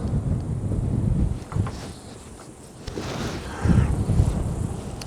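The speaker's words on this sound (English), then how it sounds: "It is so windy." Strong gusts of wind buffet the microphone in rumbling, uneven bursts that swell and fade.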